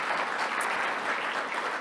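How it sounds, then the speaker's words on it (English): A short stretch of continuous, even applause from an audience at a formal event, filling the whole moment without a break. "Give her another round of applause"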